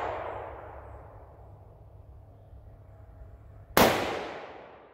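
A single rifle shot from a Howa 1500 firing ELD Match ammunition: one loud, sharp crack close by, followed by a fading echo, with a quiet lead-in before it and no voices.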